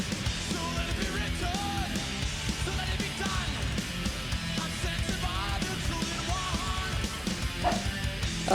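A dog barks, yips and whimpers with excitement over loud live metal music playing in the room.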